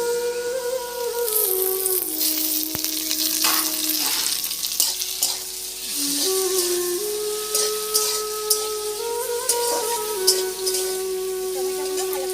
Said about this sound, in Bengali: টমেটোগুলো ভালো করে একটুখানি ভেজে নেব।